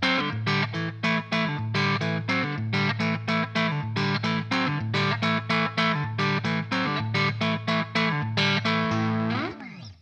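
An electric guitar on a dark blue preset with short reverb strums a rhythmic run of bright, slightly driven chords, steady and close, fading out at the end with no talking.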